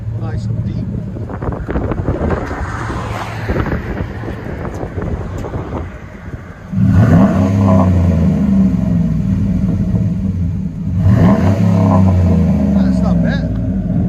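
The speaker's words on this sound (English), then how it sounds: "Got a nice idle to it too, nice and deep." A 2010 GMC Sierra SLE with a 5.3L V8 and dual Cherry Bomb Extreme exhaust idles with a deep, steady low rumble, growing louder and heavier partway through, with wind noise early on.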